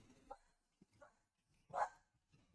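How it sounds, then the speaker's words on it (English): A dog gives a few short, sharp barks spaced apart, the last one louder, heard indoors at modest volume with no talk. "Sorry about the dog."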